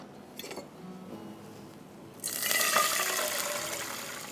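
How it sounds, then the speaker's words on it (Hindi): Milk pours into a pan of roasted coloured vermicelli, starting after some faint clinks of cookware and building into a steady, fairly loud liquid rush that carries on to the end. "भूनने के बाद आप इसमें डाल देंगे दूध।"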